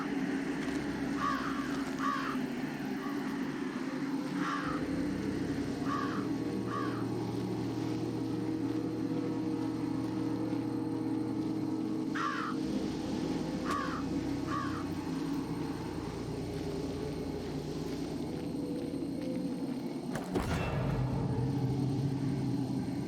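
Night-time crows caw in the video game Jenny LeClue, scattered pairs and triplets of rasping calls over a steady low drone, with a sharp thud near the end.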